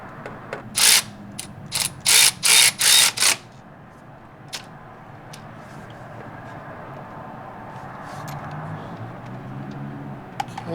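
A ratchet tightens a bolt during post-track-day maintenance on a Honda Type R: a quick cluster of about six sharp, loud clicking strokes up close, followed by a quiet workshop hum with a few stray clicks.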